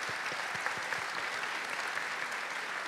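Steady applause from an audience, a dense wash of many hands clapping at moderate volume throughout.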